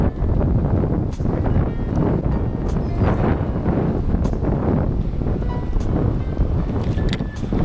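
Strong, steady wind gusting on open water during a fishing outing, a dense continuous roar of wind buffeting the microphone with splashing waves and boat noise beneath, loud throughout.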